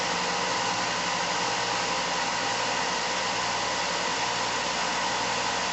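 A 2-inch belt sander grinds steadily on an epoxy resin handle for a camping knife, giving a loud, continuous whirring hum with no pauses and no talking.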